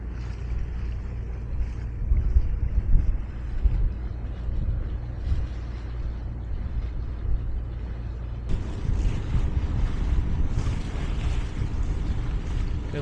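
A sailboat motors along under engine on a sea loch passage, a steady low chugging drone mixed with wind and water wash, continuous and fairly close with no talk.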